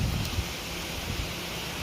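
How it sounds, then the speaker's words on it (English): Wind blows outdoors on a very windy afternoon, a steady broad hiss with low rumbling gusts from buffeting of the microphone, with no one talking. "It's terribly windy day."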